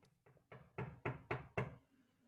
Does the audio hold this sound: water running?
no